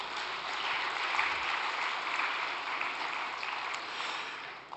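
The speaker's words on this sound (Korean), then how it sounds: "박수 한번 부탁드리겠습니다." An audience applauds steadily at a Korean gathering, a dense, even wash of many hands clapping that holds at a constant level for several seconds with no voices over it.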